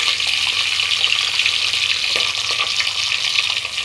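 Carrot, green chillies and garam masala sizzle and crackle in a hot pan, a steady close frying hiss with occasional stirring scrapes and light clinks throughout.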